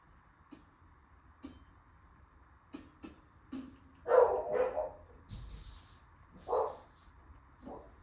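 Household dogs bark in a scattered series of sharp barks, some single and some in short clusters, heard indoors at moderate loudness over low background noise.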